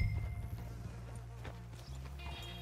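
Horse hooves clip-clop in Red Dead Redemption 2 game audio, a few soft, close steps over a low ambient hum, with no talk.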